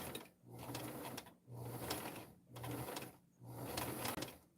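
Sewing machine running in several short bursts of rapid stitching, each burst whirring for about a second before brief pauses, close and fairly quiet, with no talking.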